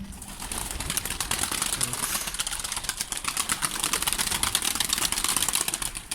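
Pigeons and young pigeon chicks in a new cage, a steady busy bed of cooing, rustling and wing flutters throughout, close and fairly loud, with no talking.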